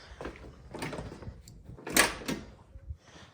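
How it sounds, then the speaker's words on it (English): A car door on a jacked-up car being forced open, with a few muffled clunks and rattles as the stiff door resists, fairly close and moderately loud. "Door doesn't want to open when the car's jacked up."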